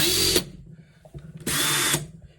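A Craftsman 20V two-speed cordless drill whirs in two short bursts separated by a pause, each starting and stopping abruptly, close and loud.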